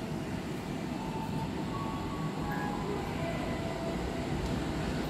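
A Bogowonto passenger train pulls out of a busy Jakarta station with a continuous broad rumble of rolling wheels and carriages, loud and even throughout, with faint squeals and tones above it.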